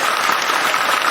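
An audience at a Hindi poetry gathering (kavi sammelan) in Indore breaks into dense, sustained clapping, loud and even across the short burst.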